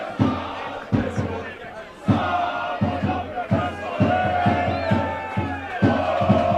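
Preston Lions football supporters chant in full voice after a goal, a dense roaring crowd with rhythmic clapping and stamped beats repeating steadily throughout, loud and close, with a commentator's voice faintly over it.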